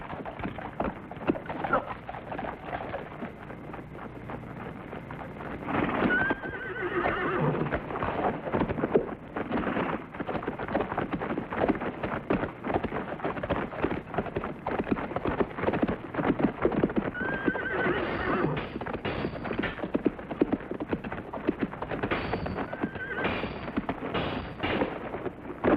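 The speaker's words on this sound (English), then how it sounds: "I'm untying the horses so Turno's men can't follow us" Horses whinny and neigh repeatedly while hooves clatter in a dense, continuous clip-clop throughout, loud and busy, with sharp bangs like gunfire mixed in during a 1962 period action scene.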